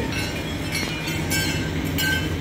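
A railway maintenance train carrying rails rolls past close by on the Suphanburi line with steady rumbling and clattering and faint metallic squeals, heard continuously with no talk.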